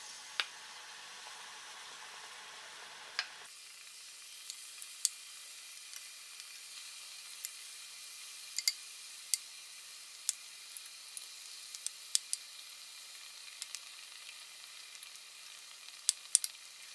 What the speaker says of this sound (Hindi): हम सारी गोभियों को मीडियम आंच पे तल के तैयार करेंगे